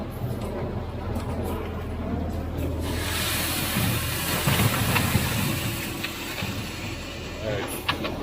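Farm machinery unloads a corn wagon during a muddy corn harvest, a loud steady mechanical roar and hiss building in intensity midway, close and continuous.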